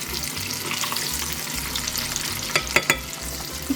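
Panko-breaded shrimp frying in hot oil, a steady close sizzle and crackle throughout with a few sharp pops near the end.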